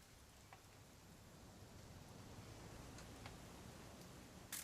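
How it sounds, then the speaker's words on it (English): Steady, quiet rainfall in the video game What Remains of Edith Finch, a soft, even hiss with a few faint ticks of drops, continuous and distant with no talk. "It's gonna rain the whole weekend, isn't it?"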